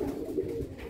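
A racing pigeon hen coos softly at a loft during a Cabanatuan midtoss, a low continuous murmuring that holds steady through the short moment with no talk over it.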